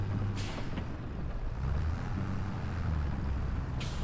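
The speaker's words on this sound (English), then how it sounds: "I will leave the tractor running because I will be taking it to the store quite soon" Tractor engine idling in a logging simulation game, a steady low diesel rumble with brief higher hissy bursts near the start and end, continuous and fairly loud, no talk.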